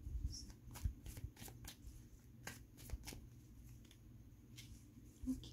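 Tarot cards are shuffled and drawn by hand, giving soft, close papery riffles and flicks in scattered bursts across a quiet room, with no one speaking.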